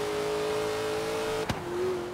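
Race car in Forza Horizon 3 speeding past during a race, a steady engine drone broken by one sharp close whoosh as it passes, then the engine note continues.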